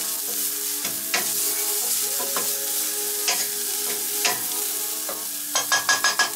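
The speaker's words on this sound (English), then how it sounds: "You can hear the little sizzle." Steady oily sizzle of ginger, garlic and onions frying in a pan, with a few sharp stirring scrapes and a quick run of clatters near the end.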